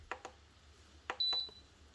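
Short electronic beeps come from an electric pressure cooker's timer buttons as they are pressed. Four quiet button chirps are followed by a longer steady beep, all close and alone in a quiet kitchen.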